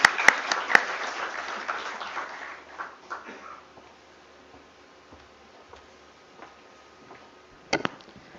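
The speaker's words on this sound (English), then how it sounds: "Let's have a huge round of applause for ma'am, please." Applause at a company's IPO listing ceremony starts with a few sharp claps, swells briefly, then tapers off within three seconds to a quiet room, with a short clatter of claps near the end.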